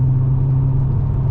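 A VW Golf R32 fitted with a Scorpion exhaust runs steadily nearby, giving a loud, deep, continuous rumble and drone with no revving.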